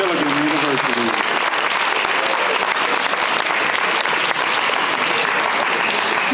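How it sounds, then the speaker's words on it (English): Sustained applause from a crowd at a high school National Signing Day ceremony, steady and fairly loud throughout, with a voice briefly audible at the start. "let's give one more big round of applause"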